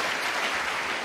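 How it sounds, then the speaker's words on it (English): Warm, steady applause from an event audience in Azerbaijan, a brief wash of many hands clapping together, fairly close and unbroken. "Let's make a warm applause for our Turala Sadhguru and of course our dear Sadhguru."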